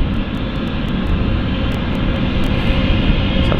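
A KLM airliner at London City Airport, heard as a loud, steady engine roar that holds evenly from start to finish with faint ticking above it and no speech.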